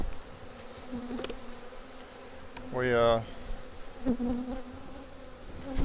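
Honeybees drone continuously around an open hive during an inspection ahead of colony splits, a steady close buzz with a louder swell from one bee passing near the microphone; a single brief spoken word cuts in.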